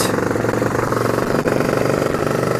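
A car fitted with a Casa Performance Sledgehammer exhaust drives along in third gear, putting out a steady, rumbling engine drone that holds throughout.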